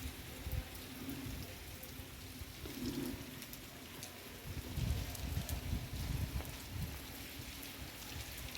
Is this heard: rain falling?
yes